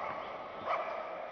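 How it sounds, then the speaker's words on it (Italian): Dog barking at a kickboxing event during the first round, a short bark or yip rising briefly over the steady crowd and hall noise. "C'è anche un cane che abbaia."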